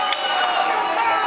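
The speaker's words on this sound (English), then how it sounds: "listen to the crowd respond to this" Crowd roaring at a kickboxing fight, a dense, continuous wash of cheering and shouting filling the arena at high volume, with a commentator's voice mixed in.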